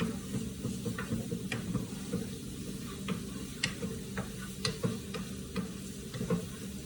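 Mushrooms and fresh vegetables for zucchini boats sauté in a pan with a low, steady sizzle, punctuated by scattered clicks and taps of a utensil stirring, close and alone without speech.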